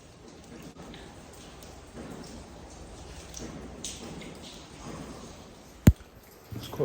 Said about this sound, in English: all you can hear is constant dripping